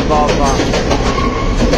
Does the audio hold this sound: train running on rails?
yes